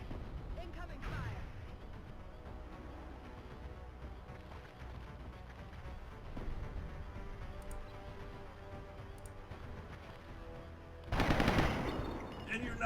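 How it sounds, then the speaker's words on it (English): Incoming gunfire in XCOM Enemy Within bursts out in short volleys over a low rumbling backdrop, with a louder, heavy barrage near the end and a voice talking in between. "Incoming fire."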